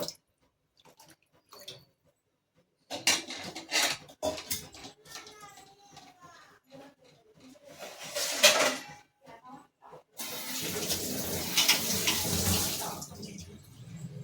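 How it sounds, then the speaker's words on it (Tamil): Water is poured into a pot of home-style chicken curry, making a close splashing, trickling pour that comes in uneven bursts and then becomes a louder steady stream. "தேவையான அளவுக்கு தண்ணி சேர்த்து"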